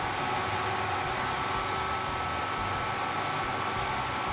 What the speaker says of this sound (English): You hear the fans here. Fans are a little loud.